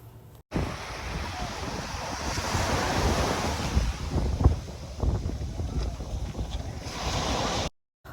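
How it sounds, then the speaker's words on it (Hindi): Open sea waves wash onto Korian Beach in Karachi, a continuous roaring surf with wind buffeting the microphone that swells and ebbs across the whole stretch, loud and close, with no voices. "खुला समंदर, शोर मचाती लहरें"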